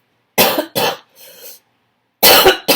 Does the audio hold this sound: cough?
yes